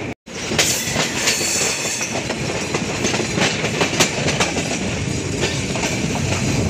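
The Rupsha Express intercity train rolls loudly and steadily into Birampur railway station, with a continuous rumble, rhythmic wheel clatter over the rail joints and faint squeals of the wheels close by.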